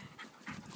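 A large dog panting in short, quick breaths up close, a brief burst with no talk over it.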